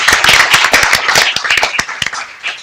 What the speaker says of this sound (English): So maybe we could give him a round of applause.